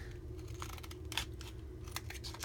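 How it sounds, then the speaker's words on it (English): Scissors snipping through plastic packaging in a few short crisp cuts over a steady low hum, close and fairly quiet, no talking. "So I suppose my other option is just to cut the plastic."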